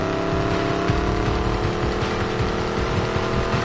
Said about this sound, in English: You know when you step on the gas and the engine growls to life for a second?